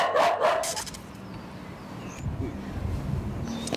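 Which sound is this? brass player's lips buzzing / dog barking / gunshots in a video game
dog barking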